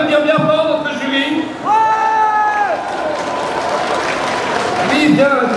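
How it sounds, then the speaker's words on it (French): An audience at the Paris Manga cosplay contest applauds the jury, a dense wash of clapping mixed with cheering and whooping voices that holds steady throughout. "Donc on peut applaudir bien fort notre jury."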